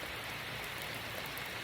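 Steady rain falls outdoors during a walk with a husky, a soft, even, continuous patter with no talking.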